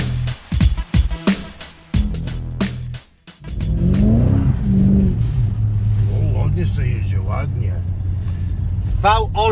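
A Mercedes CLK with a 306-horsepower naturally aspirated V8 starts with sharp revving bursts, then settles into a deep, steady rumbling idle close by while someone talks over it.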